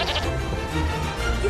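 A black sheep bleats in an animated film scene, a clear wavering bleat with no talk over it.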